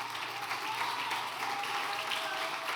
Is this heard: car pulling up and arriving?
no